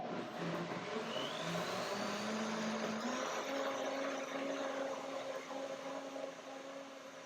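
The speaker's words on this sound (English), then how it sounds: "I try one more time. One more blender dance." A high-speed blender whirs steadily at a moderate distance as it blends chili cilantro lime pea soup, its motor pitch rising and then holding, with no talking.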